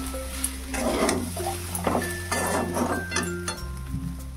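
A utensil stirs salt and sugar together in a pan, giving repeated metallic clinks and scrapes over a steady kitchen hum. A few faint tonal whines sit in the background.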